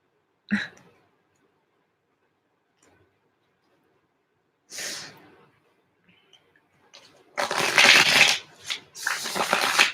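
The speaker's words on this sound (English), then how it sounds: "I'm gonna shuffle a couple more times" Cards being shuffled in several riffling bursts, loudest near the end, with quiet gaps between the earlier shuffles.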